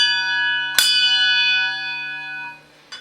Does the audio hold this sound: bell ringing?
yes